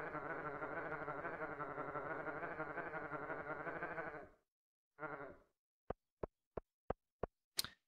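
Camel creature in a Stardew Valley horror mod, a long loud bleating groan for about four seconds, a short second burst, then a rapid series of sharp clicks.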